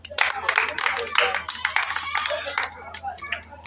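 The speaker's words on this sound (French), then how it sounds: "On applaudit Calvin." An audience applauding a young participant on a Haitian children's programme, uneven clapping with distinct hand claps at varying strength, with voices mixed in.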